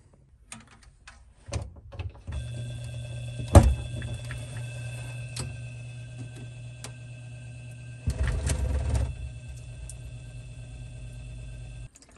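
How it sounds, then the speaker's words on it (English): A reverse osmosis water filtration pump runs during an RO tank installation, humming steadily at a low level with a few sharp clicks and a louder rattling burst partway through. "After a minute or so of letting the system fill up with water, you can go ahead and plug in the pump."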